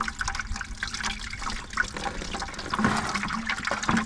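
Water draining through a pipe line in a bus conversion build, a steady gurgling, splashing flow running close by throughout with a few brief bubbling spurts.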